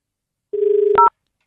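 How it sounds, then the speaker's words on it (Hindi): A brief phone tone plays once: a steady beeping hum followed by a short two-pitch dialing tone, loud and clean, with silence on either side. "उनको फोन लगाता हूँ"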